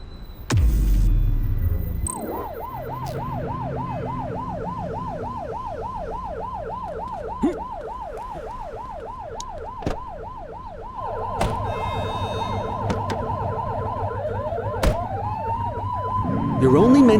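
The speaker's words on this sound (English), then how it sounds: "You're only meant to use the siren in emergencies." Police car siren in the video game The Precinct, a rapid repeating wail that runs for most of the stretch, loud and steady, shifting to a different siren pattern partway through over faint vehicle noise.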